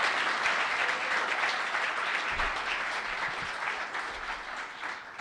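A crowd at a conference welcome session applauds a co-founder in a steady, dense wash of clapping that holds fairly loud and slowly tapers, with a few low thumps partway through.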